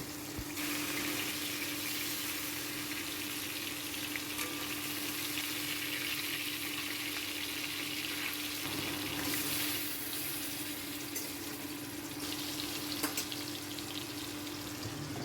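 Food cooking on a stove gives a steady, quiet sizzle with a constant low hum beneath it, continuous and close, with no talking.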